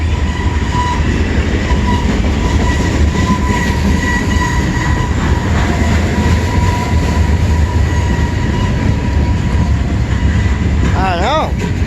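A CN freight train rolls past close and loud while braking to stop for a signal, a steady rumble of wheels and cars ending in sharp rising brake squeals.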